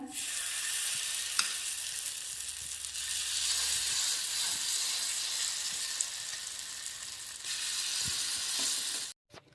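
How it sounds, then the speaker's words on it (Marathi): Mung dal batter on a buttered hot pan, a loud continuous sizzle and hiss close up with a few faint scrapes and taps, steady for several seconds before cutting off abruptly, no voices. "आता यामध्ये डाळीचे बॅटर टाकून घेऊया"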